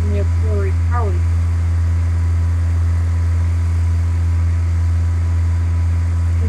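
A propeller plane engine in a flight simulator, running as a loud, steady low drone with a constant hum and no change in tone.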